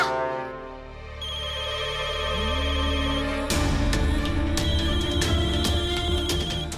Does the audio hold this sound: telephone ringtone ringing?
yes